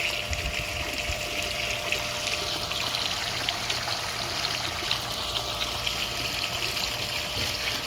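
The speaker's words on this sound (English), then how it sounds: "we're also adding more water to the pool itself" Water runs steadily into an above-ground pool, a continuous close trickle and splash that holds level throughout with no talking.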